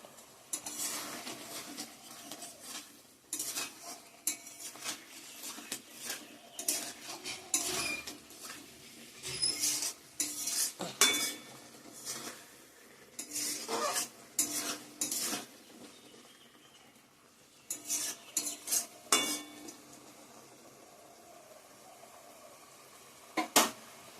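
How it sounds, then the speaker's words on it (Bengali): A metal spoon scrapes and clinks against a pan while tomato chutney with cashews and raisins cooks, irregular stirring knocks over a soft sizzle, close and fairly busy. "আমার এদিকে টমেটোর চাটনিটাও হচ্ছে।"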